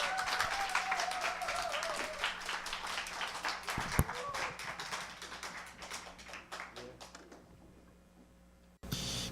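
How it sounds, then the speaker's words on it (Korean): Audience at a year-end church gathering clapping in a dense burst that gradually thins and fades out, fairly quiet overall, with a voice heard at the very end. "여러분 큰 박수로 맞이해 주시면 감사하겠습니다"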